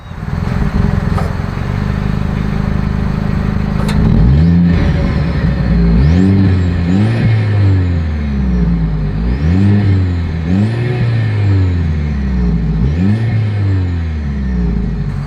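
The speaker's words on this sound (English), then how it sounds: "As always, here is that exhaust clip." A 2025 Mercedes-Benz GLE 350 exhaust drones at a steady idle, then revs repeatedly in rising and falling sweeps, loud and close with no talking.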